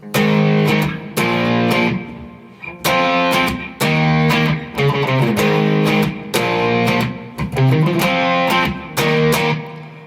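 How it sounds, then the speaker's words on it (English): Loud distorted electric guitar power chords strummed in rhythmic bursts, each chord ringing briefly before short gaps, heavy and saturated with no voices. "We're going to add a bit of distortion to the sound"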